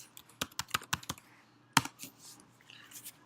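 Fingers type a password on a computer keyboard: a quick run of separate key clicks, a pause, one sharper tap, then a few softer presses, close and clear with no talking.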